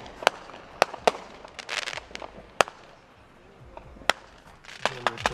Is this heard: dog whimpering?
no